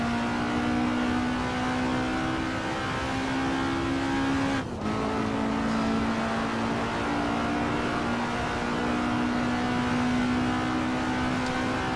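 A vintage race car engine in Assetto Corsa drones loud and steady at high revs, then dips for one quick gear change before pulling on at a lower pitch, with no talk.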